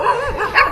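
A dog on a road in Thailand gives a short burst of two or three close, loud barks with a whiny edge, heard alone.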